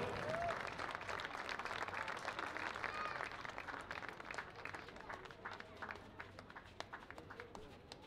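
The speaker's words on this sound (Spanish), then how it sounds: "Que se escuche el aplauso del público de la Medialuna." An audience in the stands of a Medialuna rodeo arena applauds after a mounted equestrian squad performs, a broad, somewhat distant crowd clapping with crowd murmur and voices mixed in.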